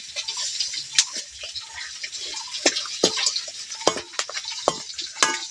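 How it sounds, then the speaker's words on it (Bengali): Raw chips and papad being dry-fried without oil, puffing in hot salt: a light rustling hiss broken by repeated sharp scrapes and clinks of a slotted ladle against the pan, close and irregular. "এগুলো পুরোপুরি ভাজা হয়ে গেছে এবার তুলে নিচ্ছি"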